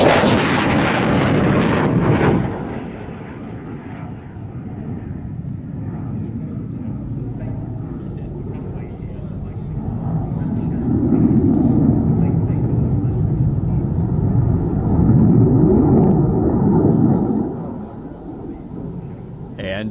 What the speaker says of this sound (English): putting it through its paces with the Belgium air component, with the General Dynamics F-16 AM Fighting Falcon